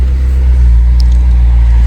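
The engine of a 2022 McLaren 720S Performance sends out a loud, deep, continuous rumble close by, holding steady for the whole short stretch.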